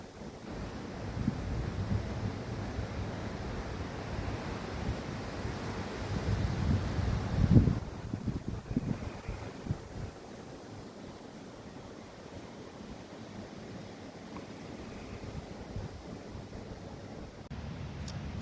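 Wind buffets an outdoor microphone in a garden workshop setting, a loud rushing gust building to a peak around the middle, then easing into quieter steady breeze noise.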